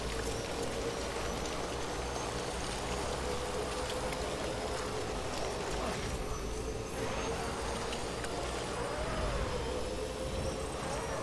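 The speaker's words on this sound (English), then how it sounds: "is quite rainy." Steady rain hisses over the landscape in the video game Death Stranding, a constant wash of droplets with a low rumble underneath and no voices.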